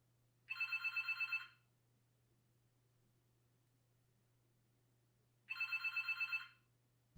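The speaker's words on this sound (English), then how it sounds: "the phone just rang right now" A telephone rings twice, each ring a roughly one-second burst of rapid warbling trills, separated by a long quiet gap, moderately close and with no talking.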